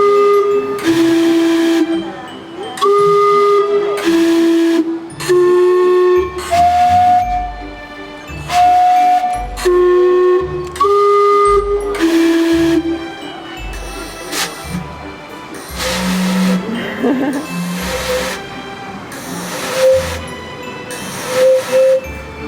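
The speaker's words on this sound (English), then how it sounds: "Our first stop was the Steamwhistle clock, and we arrived just in time to watch the clock strike 10." The Otaru steam whistle clock in Hokkaido plays a loud, clear sequence of whistled tones as it strikes ten, each pitched note held briefly between hissing puffs of steam, with some background voices.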